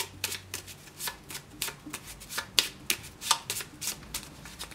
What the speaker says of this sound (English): treasure deck and we'll shuffle it.